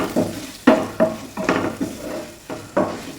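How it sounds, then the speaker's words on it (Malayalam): Mixed vegetables and ground paste for a Kerala mezhukkupuratty are sautéed in oil, heard as a close, loud series of rhythmic scraping stirs of a spatula in the pan, about one every half second, with no talking. "ഇതെല്ലാം കൂടെ ഒന്ന് എണ്ണയിലൊന്ന് വഴറ്റാം"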